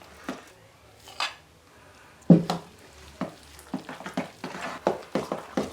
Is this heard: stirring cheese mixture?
yes